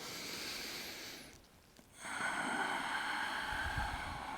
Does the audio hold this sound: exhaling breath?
yes